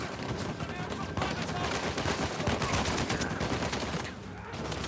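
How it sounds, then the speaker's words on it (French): Dense, continuous gunfire from the Uncharted 4 video game, rapid overlapping shots forming a loud sustained barrage that eases slightly near the end. "y a un connard qui me tire dessus"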